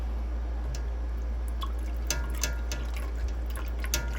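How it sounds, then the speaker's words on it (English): Small, scattered splashes and drips of water in a corn snake's terrarium sound close up over a low steady hum, with no talking. "So I splash a little bit so he can hear it."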